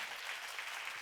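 A church congregation claps together in a brief, steady burst of applause during a Korean sermon seminar, a dense, even patter heard at a moderate distance.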